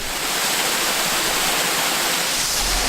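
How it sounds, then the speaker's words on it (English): Roaring water pouring down Lumsdale Falls in Derbyshire, a loud, steady broadband rush close by that holds constant throughout, with no voices. "I hope you can hear me over the noise from the water falling from here"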